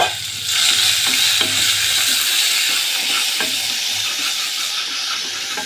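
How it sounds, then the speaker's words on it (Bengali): Chopped onion sizzles loudly in oil in a pan, a dense continuous frying hiss with occasional stirring clicks and no talking. "এবার পেঁয়াজটা লাল লাল করে ভাজবো।"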